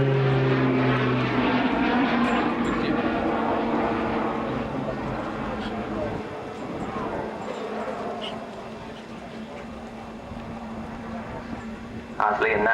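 An RAF Tucano propeller training aircraft makes a loud, sustained droning roar as it flies a display at an air show, with the engine tone shifting and slowly fading as it passes overhead.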